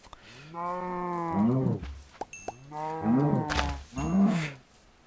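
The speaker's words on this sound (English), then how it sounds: "there's a lot of cows here" Cows mooing in a Minecraft game, with two long drawn-out lowing calls and a shorter third call close together, loud and near, with no talk over them.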